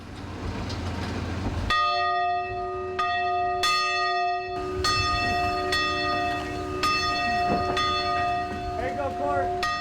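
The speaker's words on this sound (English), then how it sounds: "This is the original church bell dating back more than 100 years." A large church bell over 100 years old rings out in repeated, resonant strikes, each leaving a long shimmering hum, close and loud against a low background rumble.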